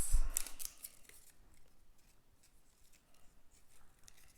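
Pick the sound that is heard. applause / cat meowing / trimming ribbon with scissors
trimming ribbon with scissors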